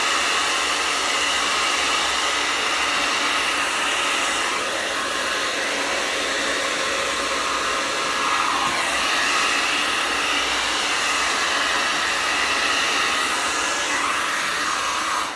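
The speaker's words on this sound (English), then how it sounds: "But one thing I like to do is go through the whole body with a hairdryer." A hair dryer on its cool setting blows steadily over the plastic body of a USB rechargeable portable fan, producing a loud, continuous airy roar that holds an even level throughout.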